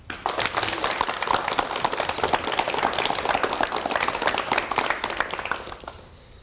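A studio audience claps to welcome a guest, a brisk crowd of individual claps sustained for several seconds before tapering off at the close.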